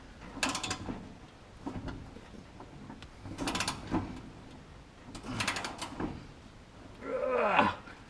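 A socket wrench tightens a mower blade bolt on a Cub Cadet XT1 LT 46, giving three short bursts of ratcheting clicks, then a grunt of effort, all close and fairly quiet.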